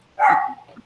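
A single dog bark, short and sharp, sounds fairly close and stands alone without talk.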